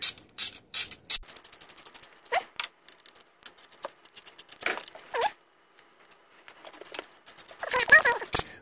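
Hand ratchet loosening bolts on an Austin Metro water pump, rapid bursts of close, crisp clicking in several runs separated by brief pauses, with small metallic knocks between them.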